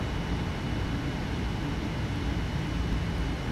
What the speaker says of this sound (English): you can just hear the engine sort of rumbling